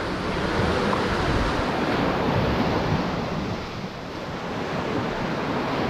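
Strong sea waves breaking at a rough shoreline, a continuous loud surf wash mixed with wind buffeting the microphone, close and without talking.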